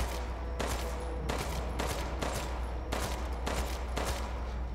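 Gunshots in Resident Evil Village, a series of evenly spaced bursts roughly every half second over a constant low hum, moderately loud with no talk.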